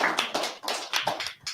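A small audience claps in a short, uneven burst of applause at a leadership talk, a handful of hands tapping at close range with no voices over it.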